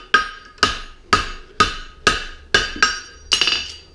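A hammer strikes a heart bar horseshoe on an anvil, landing seven sharp, ringing blows in a steady rhythm about half a second apart, the last with a quick double hit, each fading before the next.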